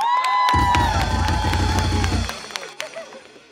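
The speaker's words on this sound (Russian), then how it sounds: "Аплодисменты!" A concert crowd at a rock show in Ust-Ilimsk cheers and claps in a loud burst lasting about two seconds, then fades, with ringing sustained tones carrying on beneath and after.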